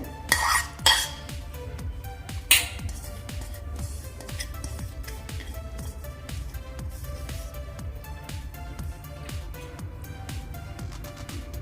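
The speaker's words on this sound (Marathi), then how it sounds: "हळद आपण यामध्ये घालून हे पीठ पहिल्यांदा मळून घेऊयात" A hand mixes shredded cabbage with turmeric and flour in a wide metal plate, giving a steady close scraping and clinking with a few louder knocks near the start.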